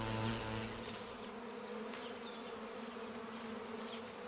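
A honeybee swarm drones in a steady, dense buzz, many wings humming together at close range and moderate loudness, with no voices over it.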